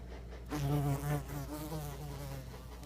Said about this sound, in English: these guys are robber flies, or giant robber flies.